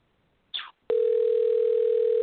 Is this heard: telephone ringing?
yes